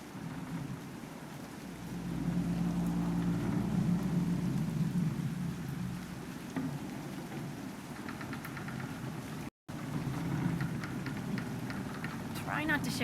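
A rainstorm with rumbling thunder rolls in Dragon Age Inquisition, a steady wash of rain over low booming rumbles, briefly cut off once, with a voice speaking over it.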